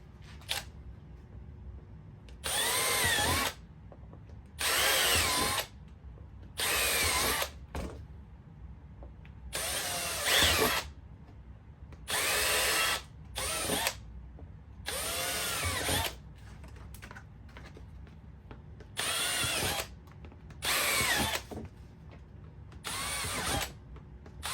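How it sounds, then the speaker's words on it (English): Power drill boring holes in a Kydex holster whirs in short bursts of a second or two, repeated about a dozen times with quiet pauses between, close and steady. "holes are all drilled out"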